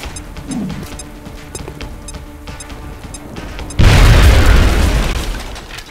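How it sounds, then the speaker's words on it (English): A grenade goes off in the turn-based strategy game XCOM: Enemy Unknown, a sudden loud boom that cuts through quieter ambient game noise and rolls on in a broad, rumbling roar for about two seconds. "Now toss your grenade at the enemy in front of you."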